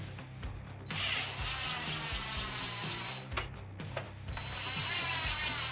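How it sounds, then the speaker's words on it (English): An electric screwdriver slowly drives screws into a plastic servo mount on an RC car, giving two sustained whirring runs separated by a brief pause, close and moderately quiet. "Now there's 4 screws here. Again, into plastic, so real slow."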